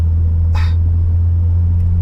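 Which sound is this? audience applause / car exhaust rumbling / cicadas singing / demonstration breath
car exhaust rumbling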